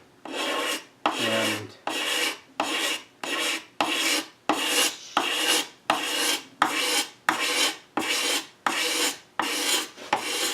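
A file rasps in steady back-and-forth strokes across a wooden serpentine chest drawer front, taking out grooves; about fifteen even, close, fairly loud strokes with short pauses between them.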